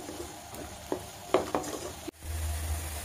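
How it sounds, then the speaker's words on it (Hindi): Cashews and peanuts roast in a hot pan with a faint sizzle, a few scraping stirs, and then a louder steady frying hiss near the end. "थोड़ी सी भून लेंगे।"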